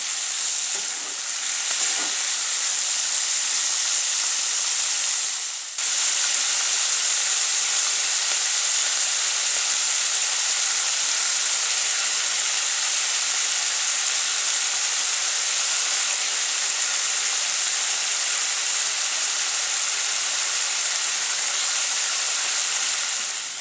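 Broad beans fry in hot oil in a pan, a loud, continuous, close sizzle that runs almost unbroken, with one short dip partway through.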